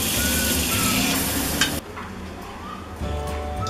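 Butter sizzles in a frying pan while a burger is cooked, a steady loud hiss close by that drops to a quieter crackle partway through, with faint stirring sounds.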